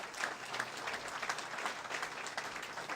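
An audience at a talk gives a round of applause, dense and steady clapping from many hands that fills the room at moderate loudness throughout.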